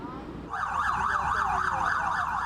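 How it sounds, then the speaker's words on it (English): Police sirens wail steadily with a rising and falling tone, loud and nearby, starting abruptly and continuing over background street noise outside the Fulton County Courthouse during protests. "They kept blowing their sirens."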